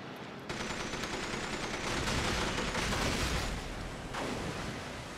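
Gunfire rattles at the player in the video game From Russia With Love, a dense, steady roar of shooting that swells midway and runs throughout without a break.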